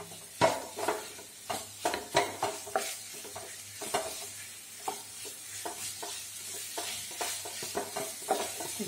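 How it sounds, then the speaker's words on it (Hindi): A potato sandwich frying in a kadai, with soft sizzling under repeated clattering stirs and scrapes of a spatula against the pan, close and fairly quiet, no voices. "अब इसे हम अच्छे से भूनेंगे"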